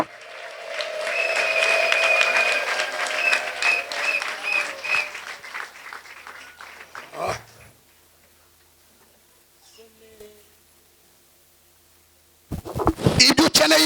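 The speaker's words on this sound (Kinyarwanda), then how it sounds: "mukoma amashyi abandi bavuza impundu" Church congregation applauding with high trilling ululation, loud and sustained for several seconds, then fading to near silence before a fresh burst of clapping at the end.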